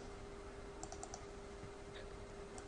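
Quiet keystrokes tapped on a computer keyboard, a few short clustered clicks over a steady hum of room noise, with no voices.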